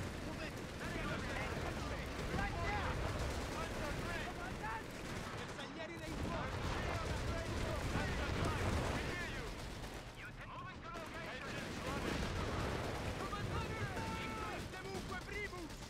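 Panzer III tanks open fire in a Company of Heroes 3 battle on the Benghazi map, with continuous heavy gunfire and booming blasts layered over a churning battlefield din, loud throughout with brief lulls.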